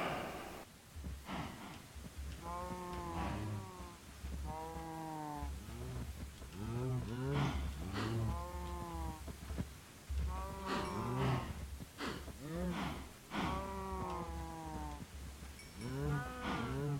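Cows in the Minecraft video game moo repeatedly, a steady run of drawn-out, pitched lowing calls overlapping one another at close range with no talk.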